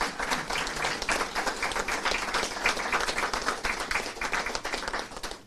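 An audience at an official announcement about faster licensing for nurses gives a lively round of applause, brisk crisp claps in a dense wash that tapers off toward the end.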